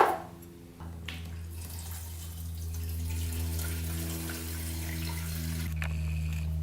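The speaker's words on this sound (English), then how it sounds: "Let's fill up the tank with a little gas and see if that petcock holds" Gasoline pours into the tank of a Honda CB350 motorcycle barn find, a steady close trickling gurgle that continues throughout with a slight rise in pitch as the tank fills.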